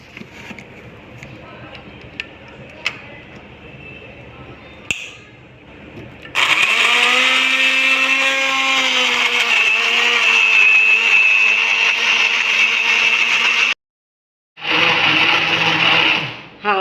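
Blender pureeing mango with sugar for ice cream, switching on after a few seconds of quieter kitchen sounds and whirring loudly and steadily, then cutting out briefly before starting up again.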